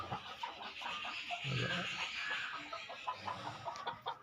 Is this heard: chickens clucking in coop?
yes